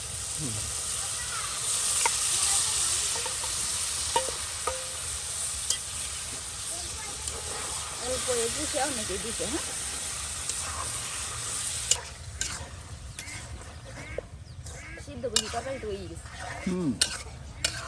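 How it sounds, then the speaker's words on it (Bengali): Boiled taro goes into spices frying in a pan and is stirred, giving a continuous sizzle with scraping and clattering utensil strokes that grow sharper and more irregular in the second half. "আর এখন মশলা কষানো হবে। এই যে কচু দিয়ে দিলাম।"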